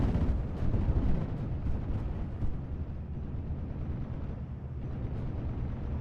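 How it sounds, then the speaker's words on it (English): Rocket strafe from aircraft slamming into a Bofors anti-aircraft gun on a WWII strategy game battlefield, heard as a continuous rumbling barrage of dense explosions, loudest in the first second and rolling on steadily with no voices. "So we've got a rocket strafe coming onto the Bofors."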